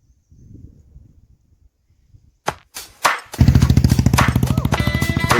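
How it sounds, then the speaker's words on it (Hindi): A motorcycle engine kicks to life after a few sharp thumps, then idles loudly and rhythmically up close after a quiet start, in Chopta, Uttarakhand, India. "जबरदस्त बाइक है यार, आवाज आ रही है।"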